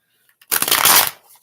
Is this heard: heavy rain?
no